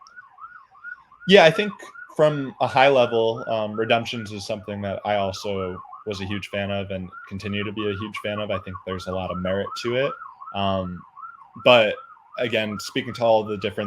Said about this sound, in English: and I do apologize for the sirens.